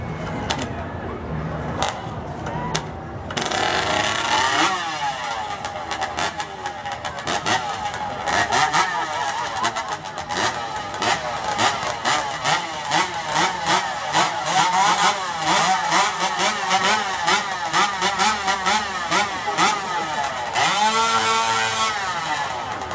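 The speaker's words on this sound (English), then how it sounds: "So the guys are going to warm these hot saws up." Several modified hot saw chainsaws warming up at a lumberjack show at a spring fair, loud and near, their engines revving and wailing in overlapping rising and falling bursts with a crowd murmuring underneath.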